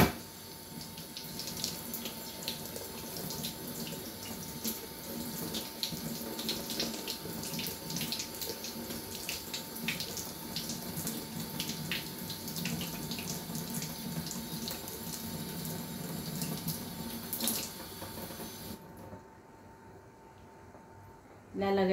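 Sweet dates being washed under a running kitchen tap, with a steady rush of water splashing into a sink that continues for about nineteen seconds before stopping abruptly.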